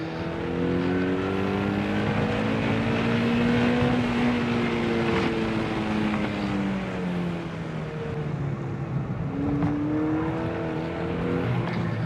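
A Mazda NC Miata lapping a race track, its engine droning steadily from inside the cabin with rising and falling pitch through the gears, plus a shift around mid-lap and a renewed climb near the end.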